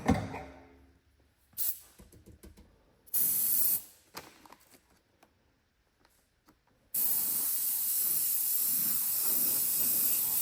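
A spray gun lays a light dusting coat of paint on a Harley-Davidson panel: short bursts of close, loud hiss separated by quiet gaps, then one long continuous spray to the end.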